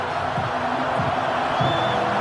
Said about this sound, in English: Crowd gets really loud.